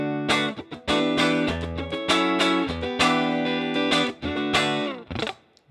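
An electric guitar on a clean tone through a Line 6 Helix rings out in a run of strummed and picked chords, each bright and sustained before the next, played alone at moderate volume and ending with a decaying final strum.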